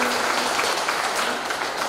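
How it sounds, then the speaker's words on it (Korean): Audience applause at a Korean concert event honoring a historical figure, with a big band present: steady, dense clapping from a crowd fills the whole moment at moderate loudness, without a break. "우리 성인님의 후손이신 우리 강병준 회장님께 다시 한번 큰 박수 부탁드리도록"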